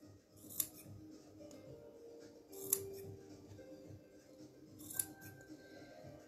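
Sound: scissors cutting felt and tape

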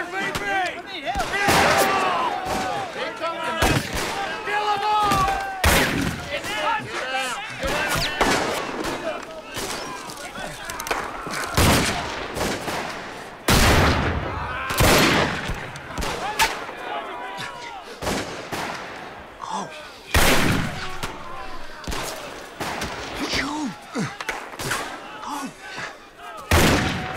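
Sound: gunfire in a western film battle

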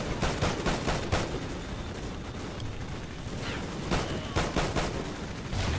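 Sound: gunfire in video game Call of Duty Ghosts

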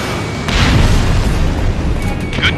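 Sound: SAM site explosion in video game Ace Combat Infinity

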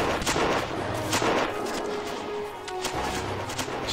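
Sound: gunfire in World War I video game Battle of Empires 1914-1918

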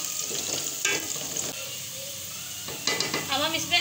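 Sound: onion frying with cumin and carom seeds

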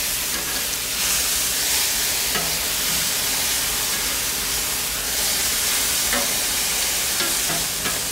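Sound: bagel sandwich ingredients frying on a Blackstone griddle

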